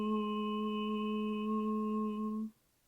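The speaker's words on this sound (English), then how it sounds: "I want you to try humming with me" A person hums a single steady, sustained tone for about two and a half seconds, rich in even harmonics, then stops abruptly into near silence.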